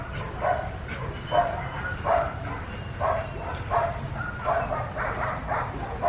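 A Border Collie gives a series of short, moderately loud barks and yips, roughly one per second, over a constant background hum.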